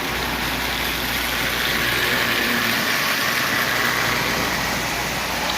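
A Marx 400 toy train with a 999 motor runs steadily, a continuous even mechanical whir and hum throughout, close and fairly loud, with no voices.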